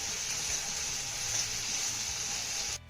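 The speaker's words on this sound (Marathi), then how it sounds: "आता हा टोमॅटो आपल्याला चांगला मौसूद परतून घ्यायचा आहे." Finely chopped tomato sautés in a pan after the onions, giving an even, close hiss of sizzling that holds steady and then drops away abruptly near the end.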